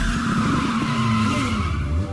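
A car in a Roblox game pulls away with a sustained tire squeal and steady engine drone, loud and close for about two seconds with no talking.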